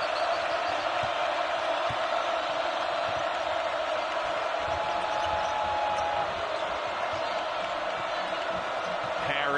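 A packed arena crowd roars continuously at a Kansas State versus Kansas college basketball game, a dense sustained wall of cheering with a play-by-play voice faintly underneath.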